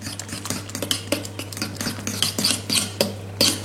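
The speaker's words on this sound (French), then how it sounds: "je vais mettre un tout petit peu de sel et un tout petit peu de poivre dans ma crème" Salt and pepper being stirred into cream with a utensil in a bowl, a run of close scraping and clinking strokes in an uneven rhythm, with a steady low hum underneath.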